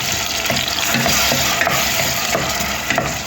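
Dalcha ingredients sautéing in a pan make a steady, loud sizzle with occasional scraping and light clicks of a spatula, continuing throughout with no voice.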